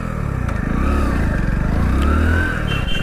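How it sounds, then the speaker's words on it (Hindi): A Hero Splendor Plus Flex Fuel motorcycle engine idles steadily just after starting, a close, even low-pitched thrum that holds without revving throughout. "ये मोटरसाइकिल स्टार्ट हो चुकी है"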